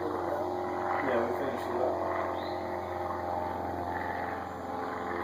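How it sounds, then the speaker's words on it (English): A propeller airplane drones steadily overhead, a continuous low hum lasting throughout, heard outdoors behind a faint background. "hear that airplane?"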